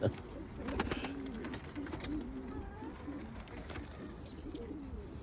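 Pigeons coo repeatedly in low, throaty phrases, a steady rhythm of soft calls close by with no talking.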